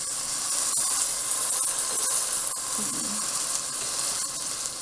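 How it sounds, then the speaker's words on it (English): Crushed tomatoes hit a hot pan of spaghetti sauce base with parsley, and a loud, steady sizzle and hiss follows. The sound stays close and continuous throughout. "now I'm going to add my crushed tomatoes for the sauce"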